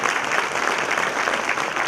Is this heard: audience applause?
yes